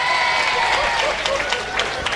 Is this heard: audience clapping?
yes